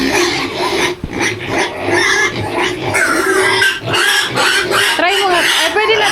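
Pigs on a farm pen squeal and grunt continuously, noisy and close, with some high wavering squeals near the end and people talking faintly underneath.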